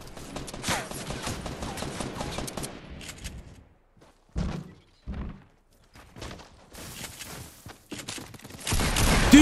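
Rapid gunfire bursts in Fortnite Battle Royale rattle loudly at first, then break into scattered separate volleys between quiet gaps, growing dense again at the end.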